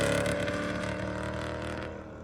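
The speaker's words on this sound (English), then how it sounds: "The engine was running so lean, Dustin didn't even feel comfortable doing a dyno pull" A Ford Mustang 3V V8 running lean idles and rumbles through its exhaust, a steady, close, low drone that eases slightly over a couple of seconds with no talking.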